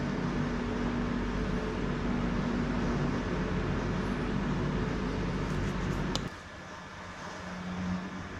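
Ultrasonic cleaner washing ball bearings from a VW 2.4 diesel engine rebuild, a steady loud broadband hiss and hum with a faint tone that suddenly cuts off near the end, leaving quieter room noise.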